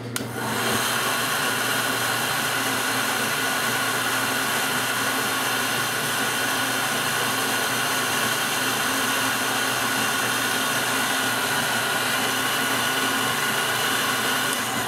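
Dryer blowing cold air over a painted model horse, a loud steady whirring roar that starts abruptly and holds constant for the whole stretch.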